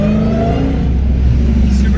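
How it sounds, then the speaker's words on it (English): Supercharged Dodge Charger Scat Pack 392 with a muffler delete and mid delete, its engine heard from inside as a loud, steady low rumble that revs slightly, with a faint high whine above it. "Supercharger is so loud"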